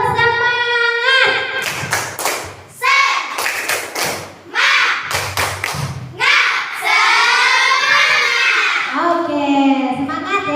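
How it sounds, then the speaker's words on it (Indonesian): A classroom doing rhythmic tepuk semangat spirit clapping, sharp grouped hand claps and thumps in a chant-like pattern, mixed with singing voices of a teacher and children. "Ayo kita tepuk semangat terlebih dahulu."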